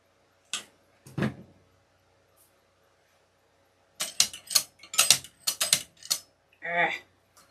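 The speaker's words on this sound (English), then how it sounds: "My steel pick machine is being aggravating." A steel pick machine clacks and ratchets in short mechanical bursts, with a few isolated clicks, then a quick cluster of sharp snaps and a final grinding rasp, close up with quiet gaps between.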